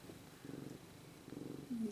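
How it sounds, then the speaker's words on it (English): Soft, close purring of a nervous new mother cat in a slow rhythmic pulse, fading in and out, ending with a brief faint vocal chirp. "Listen to her purr."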